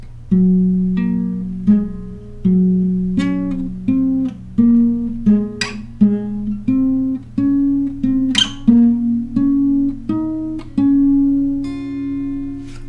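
A slow guitar melody of single plucked notes, each ringing and fading before the next, played alone and up close.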